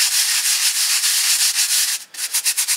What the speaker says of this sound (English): So I just take some sandpaper. This looks like it's 80 grit sandpaper. And just really gently kind of rub back and forth in a circular motion.